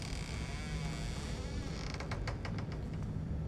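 A door in the stealth game Thief creaks open slowly, a long drawn-out groan that breaks into a rapid series of rattling creaks toward the end, heard alone over a low ambient hum.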